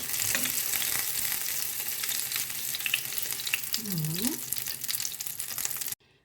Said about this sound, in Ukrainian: Підсмажую з обох сторін